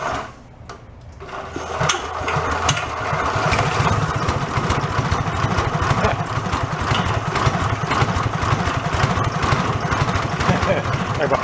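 Small go-kart engine cranks and catches, then settles into a steady, close, buzzy idle that carries on to the end, with a person's voice faintly underneath.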